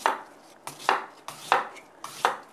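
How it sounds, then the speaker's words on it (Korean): A knife chops a radish into cooking-sized pieces on a board in four sharp, evenly spaced strikes, close and clear, with no talk. "무를 조리기 알맞은 크기로다가 무를 썰어 줍니다."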